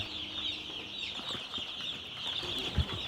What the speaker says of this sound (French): Donc ici, on fait les poulets de chair